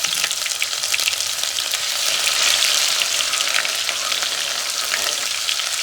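Ginger-garlic paste and whole spices sizzle in hot oil for Gujarati turiya shaak, giving a loud, continuous, crackling fry with no voices over it.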